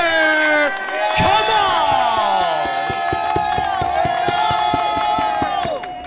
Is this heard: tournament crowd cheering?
yes